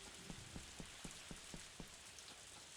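Rain in a video game: a soft, even patter of rainfall fills the background at low volume, with a faint regular ticking running through it.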